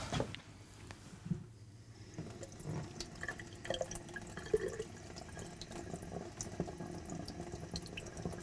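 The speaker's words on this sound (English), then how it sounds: "do you want to come over to the sink and we'll run it under cold water?" Cold water runs steadily from a sink tap in a moderately quiet room, making a continuous faint splash with a few louder drips and knocks.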